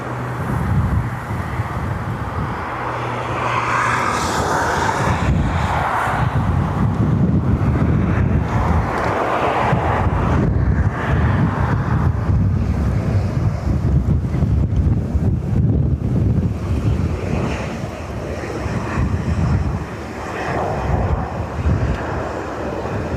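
A Royal Australian Air Force Boeing 737 MAX roars in steadily at Dublin Airport, a broad, sustained jet rush mixed with heavy wind buffeting on the microphone and no talk.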